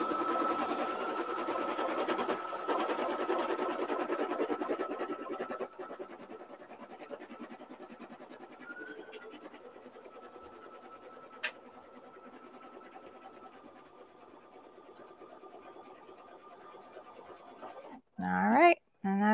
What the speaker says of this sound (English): So it's just going to pick up stitching where that thread break was.